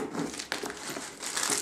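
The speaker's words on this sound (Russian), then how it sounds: "Вот так уберу бумажки" Paper stuffing crinkles and rustles as it is crumpled and pulled out of a handbag, close and fairly quiet, in a continuous papery burst.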